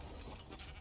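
Sheep bleat in the survival game Ark: Survival Evolved, one short, faint, wavering cry.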